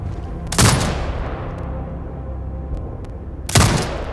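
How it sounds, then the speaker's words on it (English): Automated turret fire at hostiles in Sniper Ghost Warrior Contract 2: two loud, sharp gunshot blasts about three seconds apart, each ringing out with a long decaying tail over a steady low background hum. "Exit binocular mode and command the turret to fire."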